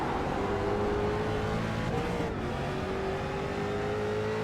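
A street stock race car engine howls as it accelerates out of the oval and up a hill at New Hampshire, the tone dipping briefly then climbing again, loud and continuous as the car powers away.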